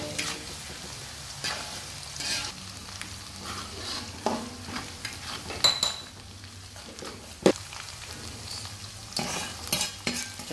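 Shallots or garlic frying in a pan, a low continuous sizzle broken by frequent spatula scrapes, stirring and metallic clinks against the pan, close up with no talking.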